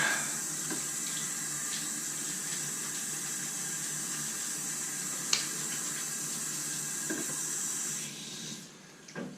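Water runs steadily from a bathroom sink tap while a face is wetted before a straight razor shave, a close continuous hiss with a few faint splashes, cutting off near the end.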